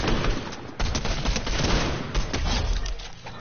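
Rapid video game gunfire, a dense, continuous burst of shots that fills the short stretch, loud and close with no talk over it.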